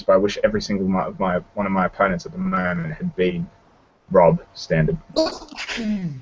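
A person sneezes partway through a casual online hangout conversation, a brief, bright burst caught between stretches of steady talk from other voices.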